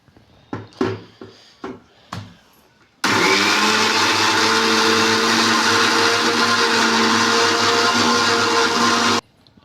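A mixer grinder grinds coconut chutney: several short pulsed bursts first, then a loud, steady high-pitched motor whir running for about six seconds before cutting off abruptly, close and alone.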